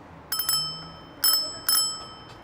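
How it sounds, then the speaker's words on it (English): A bicycle bell rings three times on a city street on a sunny day, with a quick double ding followed by two more sharp single rings, bright and close over soft traffic hum. "I rang my bell, that guy didn't even flinch."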